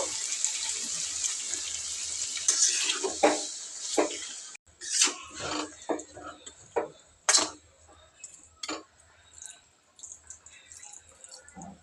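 Water is poured into a pan of brinjal chicken curry with potato to make gravy: a loud, steady rushing pour for about four seconds, then softer, broken splashes and a few clinks of a pot or utensil.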